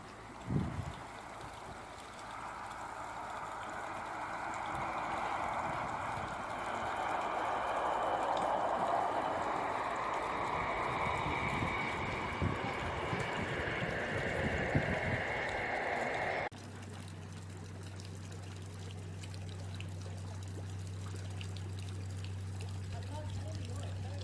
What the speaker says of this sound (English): I do love the sounds of the water in the loch.